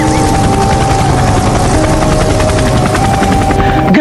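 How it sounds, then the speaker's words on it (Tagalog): A private helicopter, loud and close, with a steady rotor chop and engine whine running throughout, set during heavy rain, with no one talking. "Buti na lang binilan ako ni Dad ng private helicopter."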